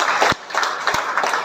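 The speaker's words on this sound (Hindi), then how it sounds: "एक बार जोरदार तीनों के लिए ताली बजाते हैं।" A group at an outdoor yoga protocol session claps together in quick, uneven bursts, a loud near patter with brief sharp gaps and no voices over it.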